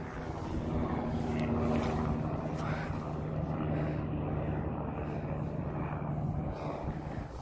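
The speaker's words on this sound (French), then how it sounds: "C'est un hélicoptère." A helicopter flies overhead, its rotor and engine making a loud, steady droning roar that holds for the whole stretch with no voices over it.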